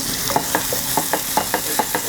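Chopped ginger and garlic sizzle steadily in hot oil in a pan while a utensil scrapes and stirs in a regular rhythm, roughly every quarter second, close and fairly loud.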